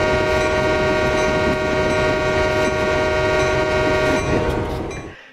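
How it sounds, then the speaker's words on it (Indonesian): A long train rolls past close by on an Indonesian rail line near the coast, its horn blaring steadily over a loud rumble of wagons before the sound fades toward the end. "Iya, kita papasan sama kereta lagi nih."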